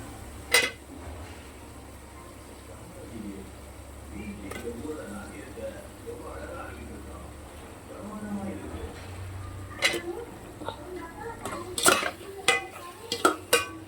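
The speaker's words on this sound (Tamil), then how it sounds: "கத்திரிக்காய் போட்டு நல்லா வதக்கிக்கலாம்." Eggplant being sautéed in a pan and stirred with a spatula, heard as a low, steady cooking hiss with a few sharp utensil clinks, mostly toward the end, while someone talks over it.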